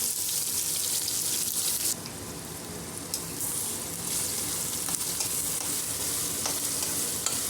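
Onions and curry leaves fry in hot oil in a home kitchen pan, giving a loud, steady sizzle with occasional stirring clicks and no voices.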